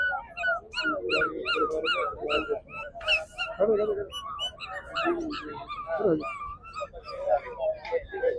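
Dogs yip and whimper in high, squeaky bursts, mixed with bird calls and chatter over a busy, close background at a horse fair in Talwandi Sabo.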